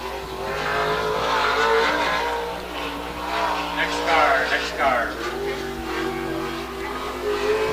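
Sprint cars roar around the I-96 Michigan track, the engine note rising and falling with some tire squeal as they lap, loud and continuous beneath an announcer's commentary.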